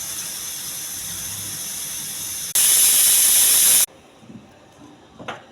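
A pressure cooker holding dal with leafy greens gives off a soft background hiss, then a loud, close burst of steam for just over a second that cuts off abruptly, leaving quiet kitchen noise.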